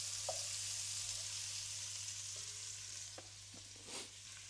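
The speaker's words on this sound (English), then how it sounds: "just give that a good stir around now" Onions and peppers for beef goulash fry steadily in a pan with a constant sizzle, while a few soft scrapes and knocks of stirring come through near the end; no one talks.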